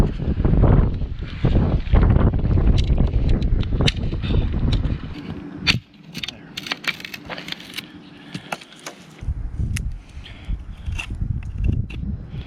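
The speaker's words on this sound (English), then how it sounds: "It's windy." Gusts of wind buffeting the microphone at an outdoor campfire in the Yukon, loud rumbling bursts that drop away midway, with a few light wooden clicks and taps.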